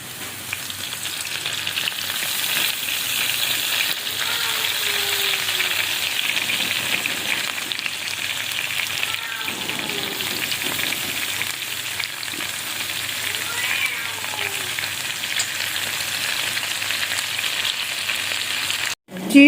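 A cheese sandwich toasting in a pan sizzles and fries in a steady, even hiss that holds for the whole stretch, close and fairly loud, ending in a brief clatter.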